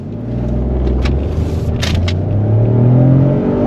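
A 2022 Citroen C4 1.2 PureTech car accelerating hard on a 0-100 km/h run, its engine droning loudly from inside the cabin with a steady rising pitch and a brief shift midway.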